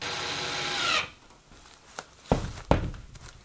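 Power drill whirs steadily into wood for about a second during renovation of a 45-year-old house, then stops, followed by a few sharp knocks and clatters of handling close by.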